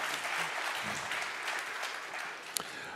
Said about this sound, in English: this deserves a big round of applause